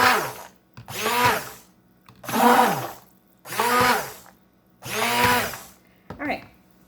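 Hand mixer whirring through goat milk soap batter in five loud bursts, each revving up, holding and winding down with short quiet pauses between, plus a brief sixth spin at the end.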